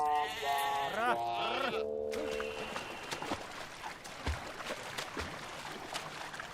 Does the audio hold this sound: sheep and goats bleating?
yes